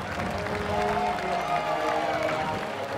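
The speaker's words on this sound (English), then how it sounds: "there's also the Austrians cheering for the Australians" Austrian spectators cheer and clap for the Australian team at a Battle of the Nations medieval combat tournament in Trogir, Croatia, a steady wash of crowd noise and applause under a commentator's voice.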